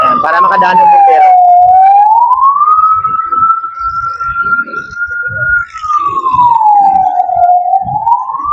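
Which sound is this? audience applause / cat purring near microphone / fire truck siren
fire truck siren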